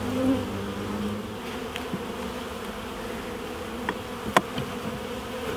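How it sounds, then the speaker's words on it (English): Bees buzzing around a top bar hive, a steady close drone with individual insects briefly passing nearer the microphone. "the bees will go in and out of the holes that are cut into the follower board down at the bottom here"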